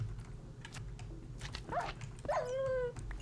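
A dog in a modded Minecraft survival game gives two short whimpering yelps, the second drawn out, over faint clicking of a computer keyboard.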